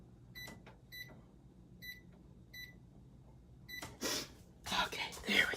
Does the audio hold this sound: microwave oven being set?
yes